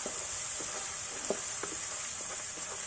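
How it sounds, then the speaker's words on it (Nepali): Spice masala sizzles steadily in hot oil for dhaba-style matar paneer, a soft continuous frying hiss with light scraping stir strokes scattered through it. "मसलाको काँचो स्मेल जानुन्जेल एकछिन भुट्नुपर्छ।"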